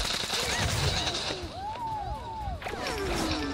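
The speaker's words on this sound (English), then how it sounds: "Larry has a gold shotgun." Gunfire and action effects from the mobile battle game Zooba as a gold shotgun is used, with rapid blasts and swooping, whistling tones layered over a busy game soundtrack.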